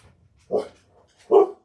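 A dog barks twice, close and clear, with a short pause between the two barks.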